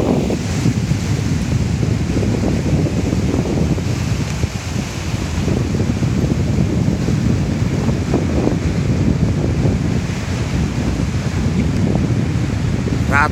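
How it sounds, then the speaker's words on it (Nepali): The Tila river along the Rara road flows beneath a bridge, giving a loud, steady, close rushing wash of water that runs unbroken, with no voices. "तिला नदीको कलकलामा"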